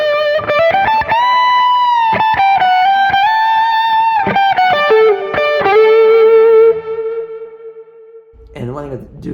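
Electric guitar lead tone from a Quad Cortex preset with a high cut: sustained singing notes with picked phrases and echo trails, loud and up front, ending in a ringing held note and a brief voice.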